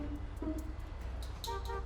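Car horn in GTA 5, a few short toots and honks over low engine and traffic rumble.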